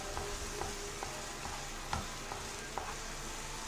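Fig halwa roasting and being stirred in a pan, a steady low sizzle with soft scraping strokes of the spoon recurring every half second or so, close and fairly quiet, no talk.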